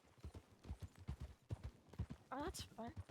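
Horse hooves clip-clop steadily in Red Dead Redemption 2 roleplay, a close, rhythmic run of knocks with a brief whinny near the end and people talking over it.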